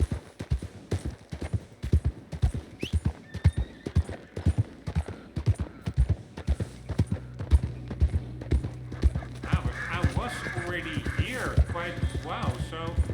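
A horse in Red Dead Redemption 2 gallops with steady, rhythmic, close hoofbeats, and someone talks over the later part of the run.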